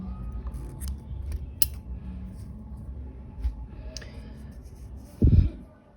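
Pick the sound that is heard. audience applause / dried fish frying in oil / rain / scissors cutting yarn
scissors cutting yarn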